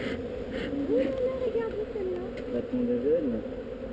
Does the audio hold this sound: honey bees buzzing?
yes